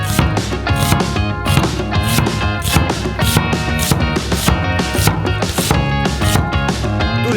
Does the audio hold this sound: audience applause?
no